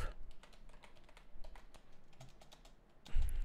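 Close, rapid keyboard typing on a computer while code is written, a steady run of light clicking keystrokes, then a louder thump at the end and no talking over it.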